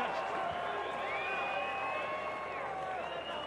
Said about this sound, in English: good applause there from the Canadian support